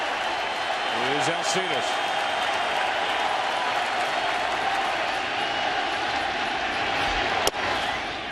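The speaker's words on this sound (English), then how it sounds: "the crowd jumps back into it" A packed baseball crowd at the 2015 World Series Game 4, Royals at Mets, roars and applauds in a steady, dense wash that holds through the whole stretch, with a commentator talking over it.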